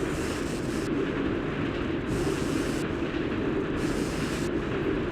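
In the video game ATV Offroad Fury 2, a train rumbles past steadily with a dense, continuous rolling roar and faint rhythmic clatter, loud and close throughout.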